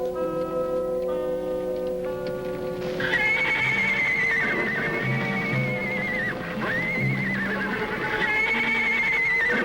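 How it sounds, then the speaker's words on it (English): Ponies in a corral neigh and whinny repeatedly, with loud drawn-out calls close by, occasional hoof clip-clops and a ticking rhythm underneath, and no talk. "Indian ponies in the corral."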